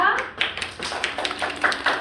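Scattered clapping from children and adults at a kindergarten initiation ceremony, uneven and moderately close in a room, with brief children's voices mixed in.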